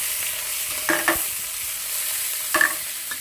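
Pork belly stir-fried in a hot wok with chopped garlic and bird's eye chilli, a soft steady sizzle broken by a few short scraping stirs of the spatula.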